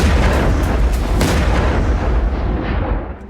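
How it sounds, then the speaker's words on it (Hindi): Explosions from an attack on Iran produce a loud, continuous booming rumble of overlapping blasts that holds steady and then fades slightly toward the end. "महायुद्ध में अब तक का सबसे बड़ा धमाका हो गया।"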